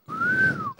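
A single sustained human whistle, voiced to imitate a watchman's whistle during a comedy stage act, rising slightly and holding steady for under a second, close and clear.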